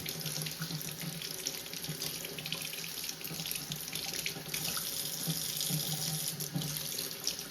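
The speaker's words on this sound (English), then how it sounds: "I'm just letting the regular water run over it" Tap water runs over a juicer's screens, a continuous close splashing rush like a faucet filling a sink, steady and unbroken from start to finish without speech.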